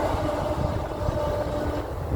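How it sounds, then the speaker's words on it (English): A train rumbles past up close, a dense steady roar of wheels and carriages with a faint tonal whine, loud and continuous for a couple of seconds with no voices. "there's your train to celebrate"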